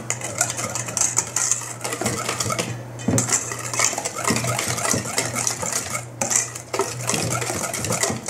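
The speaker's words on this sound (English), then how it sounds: "Just mix everything up." Peach cobbler batter of flour and baking powder being mixed in a bowl, a utensil clattering and scraping steadily against the sides for several seconds, close and fairly loud, with a low hum underneath and no talk.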